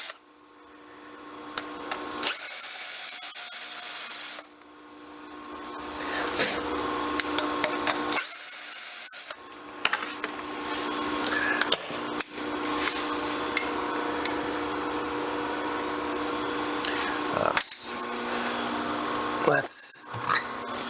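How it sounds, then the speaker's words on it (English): A hand chamfer tool deburrs the ragged cut edge of a metal part for a lathe tool holder, making repeated scraping strokes in bursts separated by pauses, with a steady mechanical hum behind. "I'm going to take the old hand chamfer and try to deburr this a little bit."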